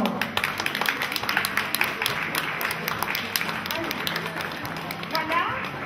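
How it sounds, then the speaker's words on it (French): Audience applause at a community intergenerational event in Dinant, France: dense, steady clapping running the whole time beneath an announcer's continuous talking. "On les applaudit très fort."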